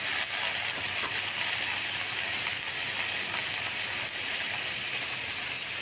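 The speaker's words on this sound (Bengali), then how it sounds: "কাঁচা লঙ্কা আর কালো জিরে ভাজা ভাজা করে নেওয়ার পর এখন কেটে রাখা ঝিঙ্গে দিয়ে দিচ্ছি।" Cut ridge gourd fries in hot oil with green chillies and nigella seeds, giving a dense, steady sizzle with scattered sharp crackles and ticks up close, no voices.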